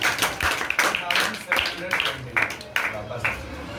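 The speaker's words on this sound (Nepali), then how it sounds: "ताली बजाइदिनुहोस्।" Several sharp, fairly close hand claps ring out at irregular intervals in a classroom abacus lesson, one or two at a time, with a voice and room chatter running underneath.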